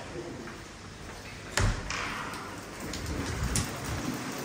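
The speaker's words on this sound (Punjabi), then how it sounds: "ਹਾਂ ਦੇਖੋ ਬਾਰਿਸ਼ ਬੜੀ ਤੇਜ਼ ਹੋ ਰਹੀ ਆ" Heavy stormy rain pours down outside a village home, a steady broadband hiss with a sharp thump partway through and occasional brighter splashes, while someone talks over it.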